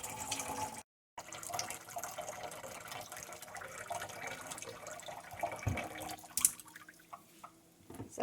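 Tap water runs into a bowl at a kitchen sink while soup is being made, a continuous close splashing flow with one brief break near the start and small drips and clinks later.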